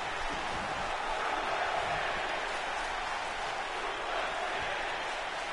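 A California wrestling arena crowd cheers during a Raw-style match, a steady wash of distant roaring voices and applause that holds at an even level throughout, with commentary faintly underneath.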